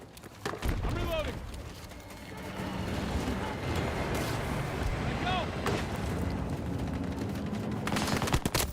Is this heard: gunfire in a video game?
yes